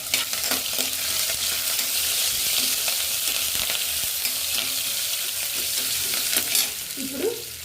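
Vegetables sizzle and fry steadily in a pan for foxtail millet upma, with a spoon stirring and scraping through them in repeated strokes, close and fairly loud, with no voices.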